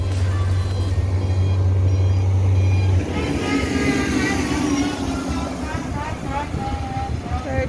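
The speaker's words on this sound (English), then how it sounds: "Third truck driving up the line" A truck moving up the line during main road asphalting on a coastal highway, a steady engine rumble with a reversing beeper at the start and a voice talking over the noise.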